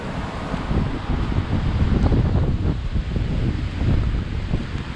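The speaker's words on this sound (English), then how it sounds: "the south wind at the tail is what's getting us right now. That's what's tearing everything up" Hurricane Laura's wind roars hard and unbroken outdoors, a loud rumbling buffet with rustling and clattering debris throughout.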